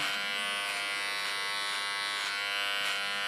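Electric hair clipper buzzing steadily at close range while it trims an ultra-short shaved nape and sides on a platinum blonde pixie cut, with faint rhythmic pulses as the blades move through the hair.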